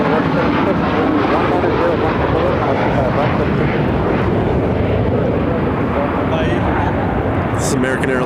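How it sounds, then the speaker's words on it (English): An American Airlines Boeing 737 MAX 8 arriving at Phoenix Sky Harbor gives a loud, continuous engine roar, with a voice talking over it. "This is American Airlines Flight 2466 coming in from Santa Ana on a 737 MAX 8"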